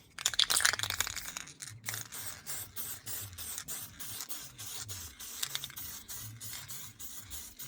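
A burst of hissing aerosol spray up front onto a matte 3D-printed plastic part, followed by repeated short scratchy rubbing and scraping noises in a steady rhythm, close by.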